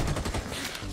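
Rapid rifle fire in Rainbow Six Siege, a quick burst of close, punchy shots in a fast rhythm filling about a second, loud and alone.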